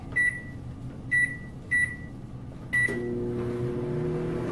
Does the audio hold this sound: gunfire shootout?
no